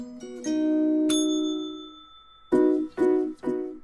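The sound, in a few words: school bell ringing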